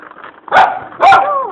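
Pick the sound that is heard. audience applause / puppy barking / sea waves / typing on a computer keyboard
puppy barking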